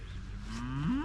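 Cattle mooing on a farm, a single drawn-out low moo that rises in pitch toward the end, close and clear with no talk.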